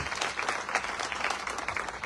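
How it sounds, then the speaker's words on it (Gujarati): Audience applause at a political speech in Gondal, a dense, steady wash of clapping that fills the whole stretch with no voices over it. "ફરીથી જોરદાર તાળી હતી"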